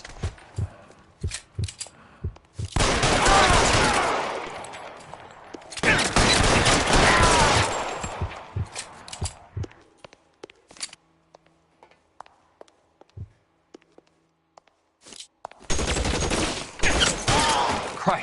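Bursts of gunfire in an L.A. Noire shootout, loud volleys lasting a couple of seconds each, separated by quieter stretches with scattered single shots and faint voices.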